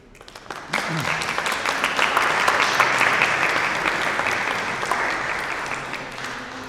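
Audience applause at an art event in Italy as the mayor takes the microphone: a few claps start it, then clapping swells into dense, sustained applause that slowly fades, with a voice briefly heard near the start.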